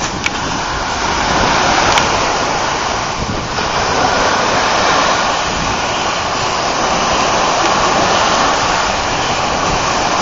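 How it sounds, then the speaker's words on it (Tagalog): Strong wind roars steadily against the microphone over crashing surf at Bulabog Beach, Boracay, a loud, continuous rush with no voices. "Sobrang lakas po ng hangin dito kumpara doon nga sa White Beach."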